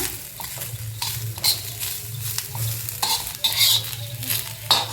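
Poppy seeds fry and sizzle in oil in a pan for a spicy chicken gravy biryani, with a spoon stirring and scraping against the metal in an irregular rhythm. The sound is close and steady, and nobody speaks.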